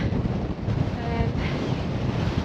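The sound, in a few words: wind blowing on a fell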